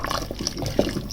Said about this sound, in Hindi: एक अदद मैंने ये कॉर्नफ्लोर की चम्मच ले ली है, थोड़ा सा पानी इसके अंदर ऐड किया है, तो ये डालेंगे